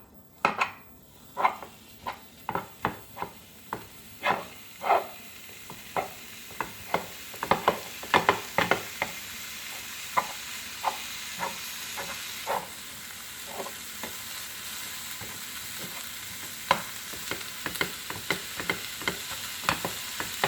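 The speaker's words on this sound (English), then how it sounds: "So I have my pan and I'm just going to put the ground beef in, break it up." Ground beef frying in a pan while being broken up, a constant sizzle under dozens of quick knocking and scraping utensil strikes, dense at first and thinning out later.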